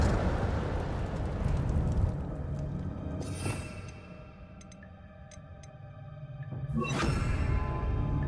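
The Expelliarmus spell cast in the Hogwarts Legacy video game: a loud rumbling magical blast and whoosh that fades into a quieter swirl, then surges again with a bright, shimmering burst, with no one talking.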